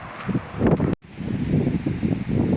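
Gusty wind buffets the microphone with low rumbling roars, briefly cutting out before the blustering resumes, on a roadside walk near St Suliac, Brittany.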